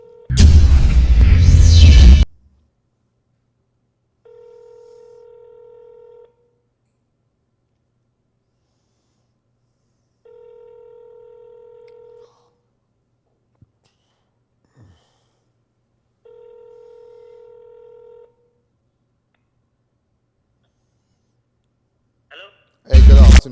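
Phone call being placed: three evenly spaced ringback tones about two seconds each sound clearly over silence between loud bursts of talk at the start and end.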